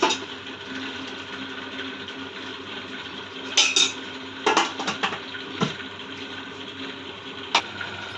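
Thickened coconut burfi mixture is scraped and poured into a plate, heard as clattering metal utensil scrapes and knocks in irregular bursts over a low steady background hum.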